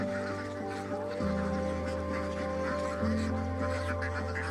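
Ducks on a large duck farm raising thousands of birds, a dense steady chorus of quacking and honking calls close by, with a constant hum underneath and no talk.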